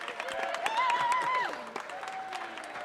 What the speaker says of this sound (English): give her a big round of applause for that